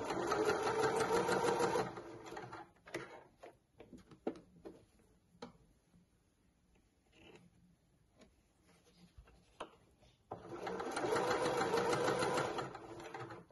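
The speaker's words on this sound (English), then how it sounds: "as long as where you're sewing is nice and flat, that's fine" A sewing machine stitches the facing of a dress in two loud, steady runs, one at the start and one at the end, with quieter handling and fabric shuffling in between.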